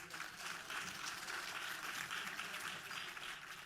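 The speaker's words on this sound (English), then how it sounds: "let's give a round of applause to our panel" An audience applauds a panel at a plenary session, a steady, distant wash of many hands clapping that holds evenly throughout.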